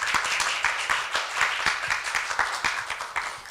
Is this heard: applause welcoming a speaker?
yes